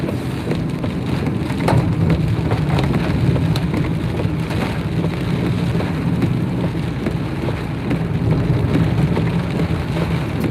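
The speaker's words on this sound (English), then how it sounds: "It's been raining now for like 3-4 days in Japan." Rain falls steadily in Japan after several days of wet weather, a dense constant patter with scattered sharper drops and a low rumble beneath. Nobody speaks.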